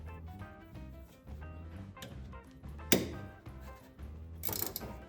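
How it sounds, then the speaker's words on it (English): A ratcheting wrench clicks in quick rhythmic bursts while unbolting a shock absorber on a 1965 Plymouth Barracuda, close up and fairly quiet, with a sharp metallic knock partway through and a louder clatter near the end. "your friend the ratcheting wrench"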